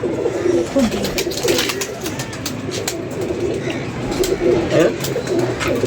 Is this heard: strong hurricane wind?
no